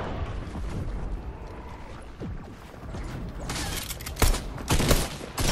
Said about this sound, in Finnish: Ja kuka mua ampuu ja mistä?